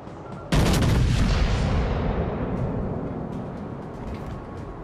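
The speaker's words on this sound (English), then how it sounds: "Concentrate fire on the enemy warship to sink them! Fire at will!" Warship guns in World of Warships: Legends firing in one sudden heavy salvo, a loud close boom that rolls away in a long fading rumble.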